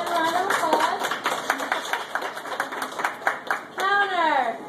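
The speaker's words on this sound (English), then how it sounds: "Can I have a round of applause?" Staff clap in a lively group at the morning opening of a Flame Tree BBQ restaurant, quick claps mixed with cheers and voices, ending in a loud shout.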